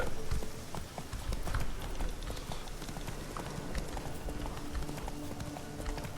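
A horse gallops in The Witcher 3, its rapid hoofbeats drumming continuously over a dense bed of game ambience and music, loud and close throughout.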